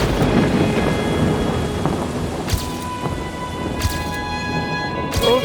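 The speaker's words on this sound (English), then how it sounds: "Yes, it was raining in Gandaki Trout." Steady rain falls in Gandaki Trout near Pokhara, with several sharp thunder cracks rolling in over the constant patter, each loud and fairly close.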